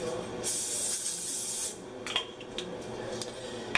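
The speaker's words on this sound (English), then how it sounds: "I'm going to go ahead and spray the bottom of the pan this time" A short hissing burst of cooking spray onto the bottom of an air fryer pan lasts about a second, followed by quieter hiss and light clatter in a room.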